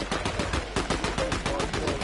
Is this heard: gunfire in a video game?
yes